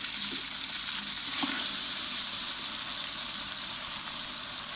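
Tomatoes and garlic-ginger paste fry in a pan for kofta biryani, giving a steady, soft hiss of sizzling oil with a faint clink partway through, and no voices.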